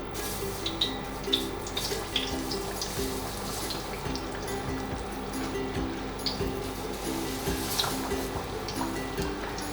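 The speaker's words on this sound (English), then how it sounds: "Now I'm putting the chicken patty into the oil." A chicken patty for a Japanese-style tatsuta burger fries in hot oil, giving a steady, dense sizzle and fine crackle that carries evenly through the whole stretch without any talking.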